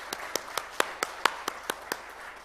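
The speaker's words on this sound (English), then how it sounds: "A big round of applause to Tally and team." A small handful of people clap in a sparse, evenly spaced rhythm, about ten distinct claps, fairly close and modest in volume.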